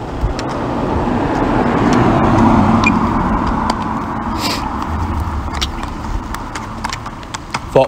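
Steady hoof clip-clop from a police horse walking nearby, mixed with passing road traffic noise throughout.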